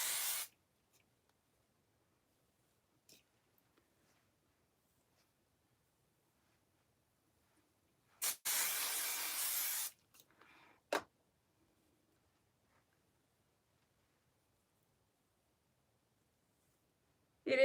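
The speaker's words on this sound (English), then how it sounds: "I'm like, where's my hairspray? Right here." Short hissing bursts of hairspray, with one longer spray in the middle, separated by near silence and small clicks.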